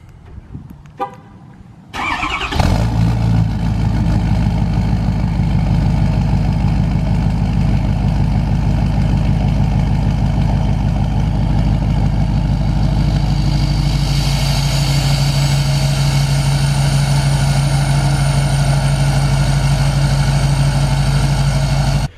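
A Ford F350 pickup with a 6.7 Powerstroke diesel cold-starts after a brief crank, then settles into a loud, steady, rumbling idle close by, running continuously with no talk.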